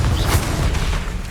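A burst of spell-blast explosion in the game Hogwarts Legacy, a short heavy boom with crackling spread lasting about a second, loud and close.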